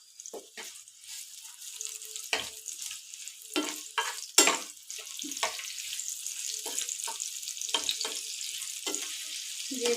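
Chopped onion frying in a pan in a home kitchen, a steady hot sizzle with scattered scrapes and clinks as it is stirred, fairly close and moderately loud, with no talking.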